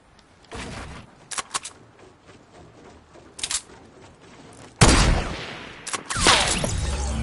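Sniper rifle shots ring out in a video game match, several sharp cracks spaced apart, followed by a louder burst of gunfire and echoing blasts toward the end.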